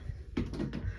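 A door swings and bumps shut with a short cluster of dull knocks and rattles, close by and fairly loud, lasting about a second.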